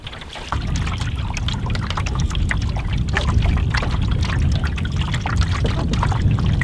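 Water splashes and trickles steadily as a kayak paddle dips rhythmically on Heigham Sound in the Norfolk Broads, with a low background rumble of moving water close by.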